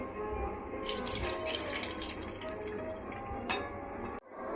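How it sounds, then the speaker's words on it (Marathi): Steady rush of water draining from a pot of sweet corn, continuous and fairly close, ending in a brief splash and a short pause before flowing again. "हे पाणी आता आपल्याला काढून टाकायचं आहे"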